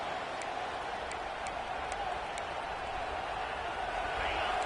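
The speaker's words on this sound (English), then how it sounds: "Listen to this crowd just shaking the girders of this place, trying to help their defense" A college football stadium crowd roars in a steady, sustained wash of noise, loud and continuous, with a few faint ticking clicks on top and a voice talking over it.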